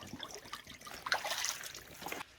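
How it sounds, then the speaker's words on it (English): Natural spring water trickles and splashes steadily out of a collection pipe, a close, continuous watery rush that swells briefly midway. "We got a lot of water coming out."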